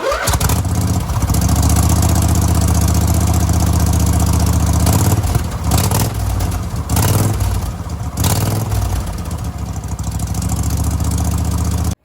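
A homemade mud mower engine fitted with a new, unwelded 2-into-1 exhaust, raised on jack stands, starts up and runs loud and close, rising and dipping in revs with a raw, rasping tone.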